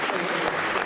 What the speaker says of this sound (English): Round of applause for the marvelous.